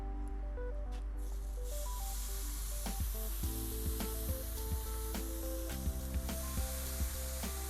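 Steaks sizzling and spitting loudly on a hot grill, first sprayed with non-stick cooking spray, a steady dense hiss with crackles and pops throughout, no talking.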